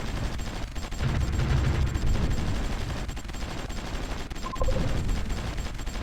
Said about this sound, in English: Now we got the anti-aircraft guns, so we should be able to fire at least, or shoot down some of these.